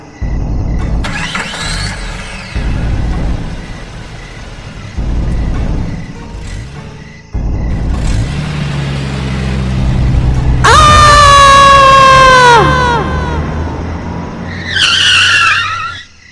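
A car drives off with a rising engine and tyre roar, then brakes hard into a long, loud tyre screech as it skids to a stop, followed by a shorter squeal, all presented as a dramatic sound effect for a ghost story.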